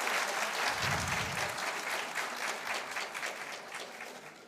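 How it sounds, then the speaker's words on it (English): An audience at a national school science quiz competition gives the quiz masters a long, steady round of applause, a dense wash of many hands that slowly fades. "A big round of applause for our quiz masters."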